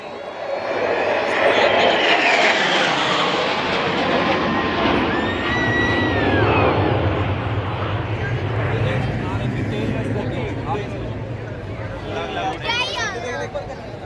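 Indian Air Force aircraft in Trishul formation make a Republic Day fly-past, heard as a loud, sustained jet roar that swells and fades, mixed with crowd murmur and an announcer's voice.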